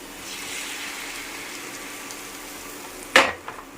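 Water streams and hisses into a hot pan for a few seconds, ending with a sharp clatter and a couple of small knocks.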